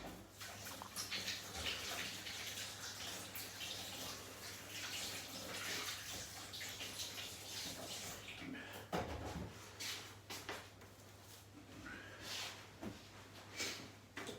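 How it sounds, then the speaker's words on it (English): Hands washed under a running kitchen tap, water splashing and pattering continuously at close range with small rubbing and dripping shifts; a person talks briefly over the flow. "Just going to wash my hands."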